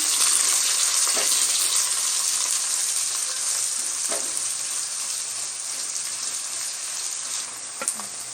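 Onions and curry leaves sautéing in a pan of oil, a continuous close sizzle with a few faint stirring knocks, no talking.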